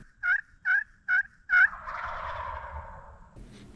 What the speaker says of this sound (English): Birds immediately gobbling.